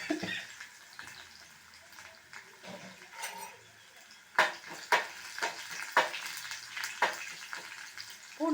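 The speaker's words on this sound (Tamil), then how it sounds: "கடுகு நல்லா பொரிஞ்சதும் இந்த தட்டி வச்ச பூண்டை இதில் போட்டுருங்க." Crushed garlic dropped into hot oil with mustard seeds for bottle gourd masiyal, giving a quiet background sizzle broken by a series of louder, close stirring scrapes and spatters, with no voices.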